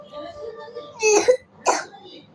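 Two short, sharp coughs close by, following some soft talking.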